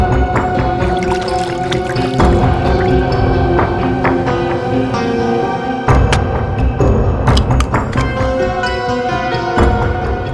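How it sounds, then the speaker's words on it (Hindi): Water pours steadily into a bottle, a continuous gurgling stream with shifting tone and a few sharper splashes, fairly loud and close. "तो जरा इसमें पानी भर।"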